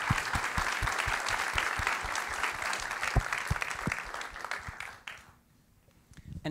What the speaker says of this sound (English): So please, a round of applause for the team and for Francesco.